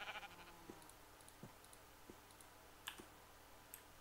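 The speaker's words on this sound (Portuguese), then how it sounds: "Caraca, ovelha, não me assusta assim." Faint Minecraft sheep bleats come through softly, a few brief calls scattered over several seconds beneath quiet clicking that sounds like keyboard typing, with low background hiss and no voices.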